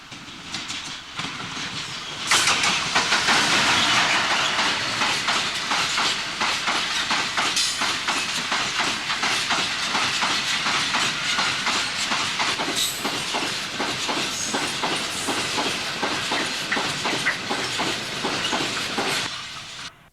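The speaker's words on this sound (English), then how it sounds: "A loaded coal train follows in the path of the sprinter." A loaded coal train from Harworth Colliery bound for Ratcliffe Power Station rolls past on the line near Cresswell, a loud, steady rumble with dense rhythmic clickety-clack of wagon wheels over rail joints and hissing brakes, continuous for the whole stretch.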